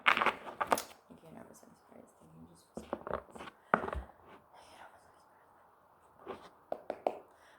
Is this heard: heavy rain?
no